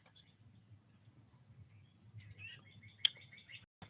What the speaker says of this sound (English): Is it the red birds?